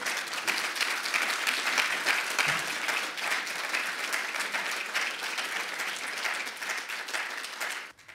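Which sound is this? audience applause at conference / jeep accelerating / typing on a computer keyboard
audience applause at conference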